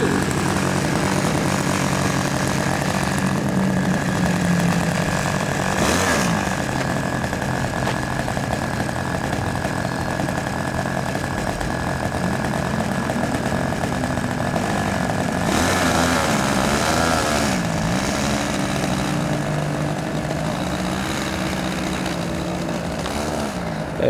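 An Extra 300 model airplane engine at full throttle before takeoff at an airfield gives a loud, sustained propeller drone close by with slight pitch wavering, steady throughout without talk.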